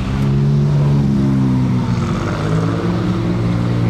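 Alfa Romeo Giulia GTAm engine around the Monaco Grand Prix, a loud, deep, steady rumble with a slight rise and fall in pitch, close by and free of speech.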